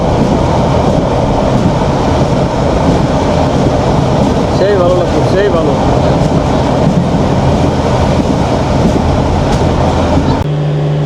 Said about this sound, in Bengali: আমাদের প্রবাল এক্সপ্রেস দুর্দান্ত গতিতে ছুটে চলছে